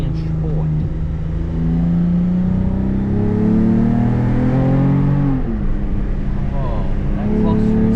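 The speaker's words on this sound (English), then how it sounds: "Put her in sport mode so we can hear her sing." A Lexus IS350 with an aftermarket exhaust revs in sport mode: a loud, close engine that climbs and falls in pitch over several throttle blips, with people talking over it.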